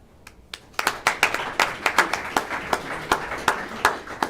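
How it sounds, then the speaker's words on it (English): At a school board meeting, the audience breaks into a round of applause for board members. It starts with a few scattered claps and quickly builds into steady, close clapping from a modest crowd. "Please join me in a round of applause to say thank you to our board members for their hard work and leadership"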